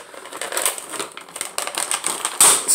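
Close, crisp snipping and rustling as twist ties are clipped off NECA and McFarlane Freddy Krueger action figure packaging, with quick clicks and plastic crinkling and a sharper snap near the end.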